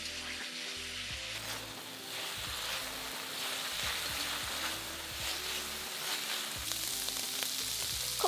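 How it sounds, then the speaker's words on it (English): Marinated beef steak fries in a hot wok, giving a loud, steady crackling sizzle close up with occasional stirring clatter and no talk. "Add that steak we marinated earlier to the wok."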